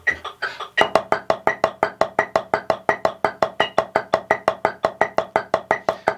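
A drummer plays a single stroke roll at 85 beats per minute: a brief spoken count-in, then a long run of even, evenly spaced alternating strokes, crisp and close, keeping a steady pulse to the end.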